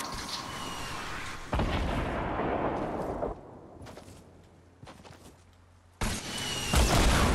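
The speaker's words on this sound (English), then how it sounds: "i hit him with RPGs" RPG rockets blast in a Fortnite match, with heavy booming explosions arriving in loud, broad bursts, a rumbling decay between them and another big blast near the end.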